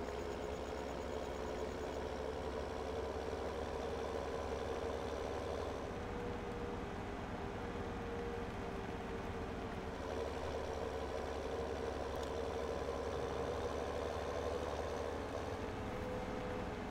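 A tractor engine idles in Farming Simulator 17 with a chisel implement hooked up, a steady, low, droning hum that runs unbroken throughout with no talk.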